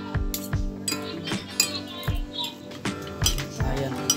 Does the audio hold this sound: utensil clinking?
yes